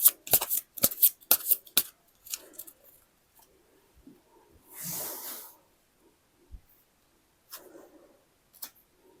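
Tarot cards being shuffled in a rapid run of crisp riffling slaps, then fainter scattered taps, one soft whooshing spread and a few later card clicks, close and alone without talk.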